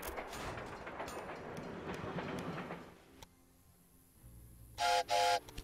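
Dragon freight locomotive in the Railway Empire video game, a steady rolling rumble and clatter of wheels for about three seconds that fades out, followed by two short electronic chime-like tones.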